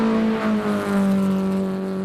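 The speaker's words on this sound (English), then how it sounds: "Just wonderful to hear the sounds of these cars going up this hill as well." Classic cars race up the Simola hill climb, with one steady, loud engine note holding and slowly shifting pitch as the car climbs nearby, no talk over it.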